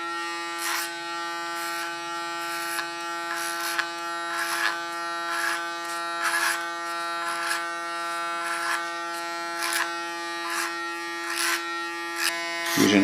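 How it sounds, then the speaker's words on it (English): An electric hair clipper buzzes steadily up close while it cuts an ultra short hairstyle, with a rhythmic swell on each pass through the hair. "Using the clipper as a comb again"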